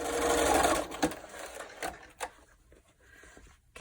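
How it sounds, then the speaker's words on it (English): A sewing machine stitches quilt fabric pieces for a block, running in a fast whirring burst at first, then stopping and giving a few short mechanical clicks and thumps. "I am just going to go ahead and sew it."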